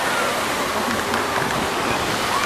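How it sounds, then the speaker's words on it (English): A water coaster ride at a theme park rushes through water, producing a constant broad splashing and spraying roar with faint voices underneath. "good water ride though, good water coaster"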